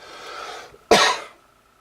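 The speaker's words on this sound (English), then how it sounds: "Wow, cannot stop coughing." A single harsh cough bursts out close by after a moment of breathy noise, then fades to quiet.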